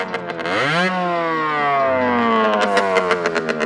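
Close, loud buzz of a 50cc supermoto motorcycle from beside it, winding up sharply in pitch, easing down, then settling into a steady throbbing run with a few brief blips near the end; no voices.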